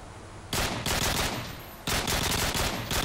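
Bursts of rapid automatic gunfire in a video game come in two long loud volleys separated by short pauses, dense and continuous, with no voices.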